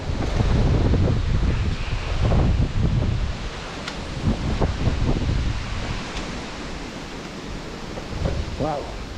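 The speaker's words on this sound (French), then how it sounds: "Vu la qualité du vent" Strong outdoor wind roaring and buffeting the microphone, a loud continuous rumble with gusty swells throughout, plus a few faint higher chirps near the end.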